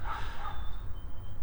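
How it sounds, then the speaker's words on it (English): A neighbor's dog barks in short yips outdoors, a few quick barks within a second and a half over a low steady background hum. "Excuse the dogs barking."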